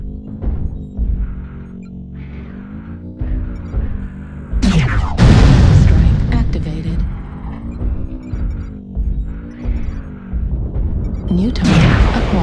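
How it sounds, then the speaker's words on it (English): Artillery strike in a tank battle video game, with heavy booming blasts landing over a droning, wavering engine hum, the biggest impacts crashing loud midway and again at the end. "Artillery strike activated."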